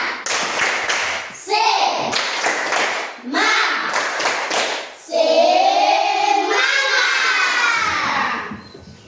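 A primary school class claps a rhythmic cheer pattern, bursts of quick hand claps alternating with children chanting loudly together in a classroom, near and energetic.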